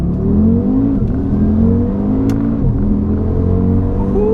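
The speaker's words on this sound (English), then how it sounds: "let's do some tests then. Let's do some, it's a little bit damp out and greasy, so 30 to 70 mile an hour pulls" Tuned 500bhp Audi RS3 with a TCU tune pulling hard from 30 to 70 mph on a damp, greasy road: a loud, continuous engine drone with steady harmonics that shift slightly as it builds speed, heard close and alone.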